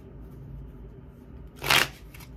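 Tarot cards are shuffled once in a short, bright riffling burst near the end, with no voices, against a quiet room.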